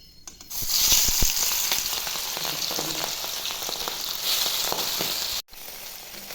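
Boal fish pieces coated in turmeric and salt go into hot oil, starting a loud, dense sizzle with crackling pops that runs steadily nearby, then cuts off briefly before quieter frying resumes.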